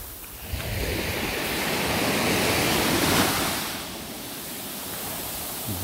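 Ocean waves wash over a beach of wet sand at the equinox. A continuous broadband roar of surf swells and eases, close and loud, with no voices over it.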